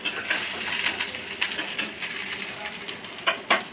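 Garlic, chopped chili, curry leaves and mustard seeds frying in hot oil in a kadai, a bright crackling sizzle with sharp popping spatters and light utensil clinks, close up and steady.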